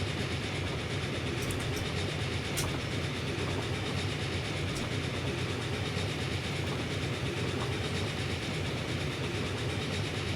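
A train in Transport Fever 2 runs steadily along an elevated railway toward a tunnel, a constant rolling rumble with clickety-clack of wheels and occasional faint high squeaks, no voices.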